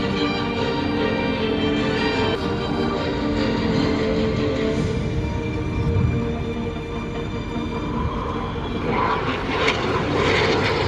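The RAF Red Arrows display jets roar loudly and continuously through a pass at an air show, with the engine noise swelling and shifting as they pull around, and no voices over it.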